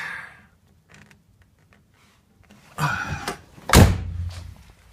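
A 1980 Chevrolet Citation 2.5 door swings and shuts with a solid, heavy thud after some quiet shuffling, then the sound fades out.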